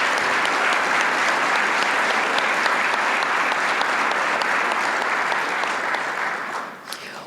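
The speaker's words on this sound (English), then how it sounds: "Let's give them all a wonderful round of applause." An audience at the Florida Bar Annual Convention general assembly claps in a broad, sustained round of applause, loud and even throughout before tapering off near the end.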